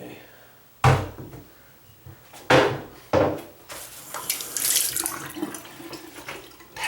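A bathroom sink faucet with a leaking handle is turned on fully, and running water hisses steadily in the later seconds after a few sharp knocks and clunks from the fixture.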